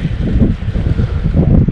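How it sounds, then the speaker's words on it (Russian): Strong wind buffets the microphone with a low, gusty rumble that rises and falls throughout, and no one speaks, while out grayling fishing. "Ветер мешает, ребята."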